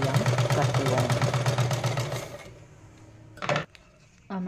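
A sewing machine stitches fabric with elastic, running in a fast, steady mechanical rattle for about two seconds before stopping, followed by a couple of brief handling clatters.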